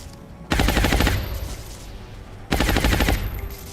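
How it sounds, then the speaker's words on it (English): Rapid-fire gunshots in the strategy game XCOM Long War come as two loud, dense bursts of quick rattling shots, about two seconds apart, with no talking. "We'll try the rapid fire yet again."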